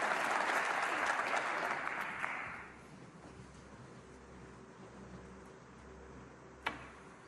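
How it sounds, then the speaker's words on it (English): Snooker spectators applaud a shot at the Northern Ireland Open final, a burst of clapping that fades after about two seconds, then a quiet hall with one sharp tap near the end. "Every shot being applauded when something good happens."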